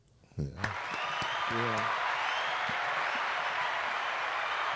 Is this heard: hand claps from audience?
yes